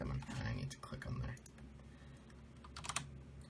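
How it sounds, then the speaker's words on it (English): Keys clatter on a computer keyboard at a workbench, a quick, uneven run of close, crisp taps with short pauses between bursts, and no voice over them. "And then I can just type something."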